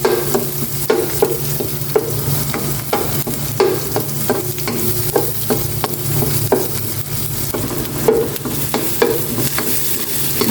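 Onion is stir-fried in a hot pan for Bicol Express, with a loud, close sizzle and quick rhythmic scraping strokes of a spatula repeating throughout.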